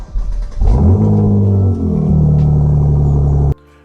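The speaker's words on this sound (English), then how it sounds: "I thought I'd better start my car up to make sure that it still starts up" A car parked on a driveway cranks briefly, then its engine catches with a loud rev and settles into a steady, low idle before cutting off abruptly near the end.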